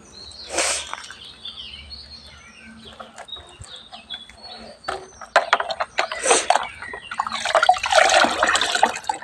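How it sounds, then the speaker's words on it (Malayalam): Rice water is poured directly onto a Sri Lankan jasmine plant in a garden, with intermittent splashing and trickling near the end, while chickens cluck and a rooster calls nearby. "നേരിട്ടങ്ങ് ഒഴിക്കുക"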